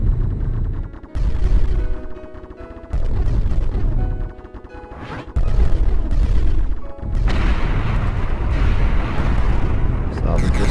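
A bomb detonates in the Beat Hazard shooter game, sending out loud, heavy booming bursts over pounding game music while someone talks over the action.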